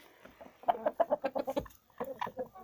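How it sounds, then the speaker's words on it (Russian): Backyard hens resting together cluck in soft, rapid strings of short notes, close by and moderately quiet, with a brief pause before another burst of clucking. "Курочки отдыхают"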